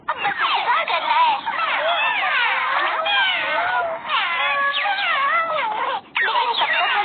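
Kittens meowing in a Doraemon cartoon, a string of high, wavering mews, close and fairly loud, repeating almost without pause.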